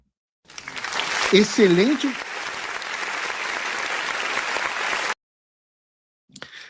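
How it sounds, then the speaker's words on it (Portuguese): A group breaks into a sustained round of applause, dense clapping that swells, holds steady for several seconds, then cuts off abruptly; a voice briefly sounds near the start over the clapping. "Uma salva de palmas"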